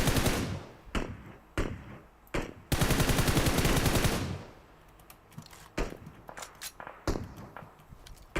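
Rapid automatic gunfire from the mobile shooter game PUBG Mobile: short separated bursts, then a sustained two-second volley, followed by scattered fainter single shots and clicks.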